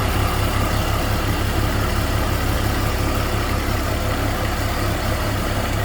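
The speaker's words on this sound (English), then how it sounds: "everything's running fine. There's no sort of jerking of the belt" A BMW 320i E46 engine idles with a newly fitted idler pulley spinning on the belt, a steady, close, continuous drone with no breaks.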